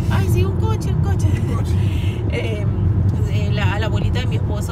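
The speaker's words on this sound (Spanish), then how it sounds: "Un coche. Ay, sí, un coche." A car passes by close in the UK, its engine and tyre noise filling the scene while voices talk over it.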